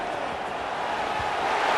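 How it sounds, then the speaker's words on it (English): Stadium crowd roar in EA Sports College Football 26 at Saban Field, a steady broad wash of massed noise swelling slightly toward the end, with no distinct voices standing out. "The Tide crowd rolling noise down onto Saban Field on third down."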